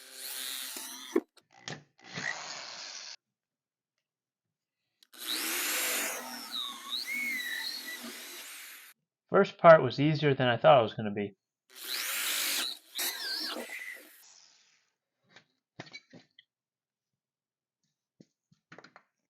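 A power drill bores a hole in a door for a deadbolt, whirring in several bursts of a few seconds each, separated by pauses, with someone speaking briefly between runs and faint clicks afterward.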